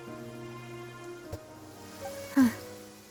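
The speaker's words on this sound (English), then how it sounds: "It's been raining non-stop for a few days now." Steady soft rain falls in the Genshin Impact game world, a faint even hiss behind sustained musical tones, with a brief knock and a short swelling note near the end.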